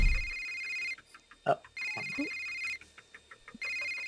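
A telephone rings in three repeated electronic bursts, each about a second long, with a short exclamation and other voice sounds heard in the gaps between rings.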